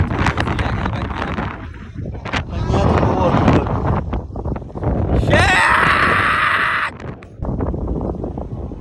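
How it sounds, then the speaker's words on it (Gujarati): Strong, fast wind on a hilltop trek at Saputara roars and buffets the microphone in heavy gusts, with voices faintly mixed in. "પવન બહુ જ ફાસ્ટ છે"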